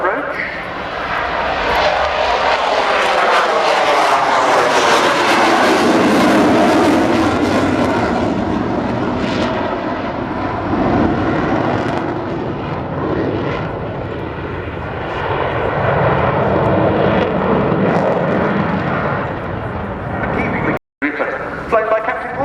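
A delta-wing canard jet roars past on a low approach at an airshow, a loud sustained engine rumble whose pitch sweeps and shifts as it passes, with a commentator talking over it.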